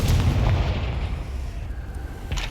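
Confringo blasting spell detonating in Hogwarts Legacy, a loud, dense burst of fiery explosion rumbling continuously and close, with booming low end and crackling debris throughout, no voices.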